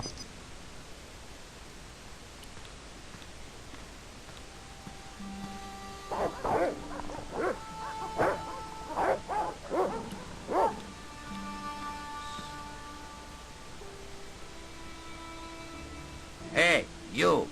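Dogs barking in the Broken Sword adventure game, a run of loud, separate barks and yips in bursts over a low ambient hum, with two sharper barks near the end.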